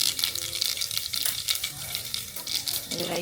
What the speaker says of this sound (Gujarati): રાઈ ફૂટી ગઈ, ગેસ ધીમો કરી દઈએ.